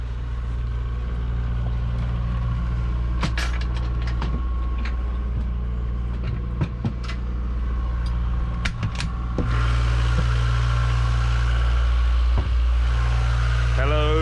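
A sailing boat's diesel engine runs below deck in the engine room, a loud steady low drone with constant hum, overlaid by clicks and knocks of movement and getting louder near the end.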